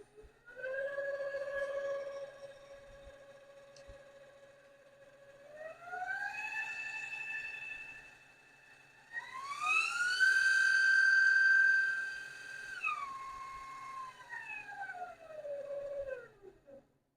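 A custom Crafter servo motor runs on an LMS 3990 mini mill, a clean tonal whine that glides up and down in pitch as the speed changes, holding steady between ramps, with no voices.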